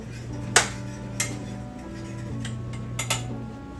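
A lid clanks onto a cooking pot of minute rice in a home kitchen, giving a few short metallic clinks, one louder and then quieter taps, over a steady low hum.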